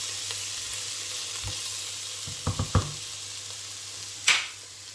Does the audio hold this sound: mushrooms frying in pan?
yes